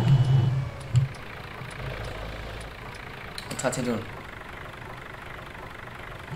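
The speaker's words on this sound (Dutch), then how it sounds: "Ik zet even de trekker hier naar de zijkant." A tractor engine idles at low, steady volume in a farming video game, a soft continuous rumble under brief talk and a few faint clicks.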